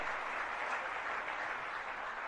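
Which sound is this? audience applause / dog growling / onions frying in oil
audience applause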